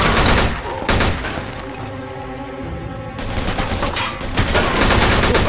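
Gunfire in the crime shooter Mafia II, loud close volleys of rapid shots at the start and end with a quieter lull of echoing rumble between.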